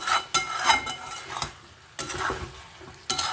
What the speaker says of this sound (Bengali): ঢাকা দিয়ে দিয়ে কষতে হবে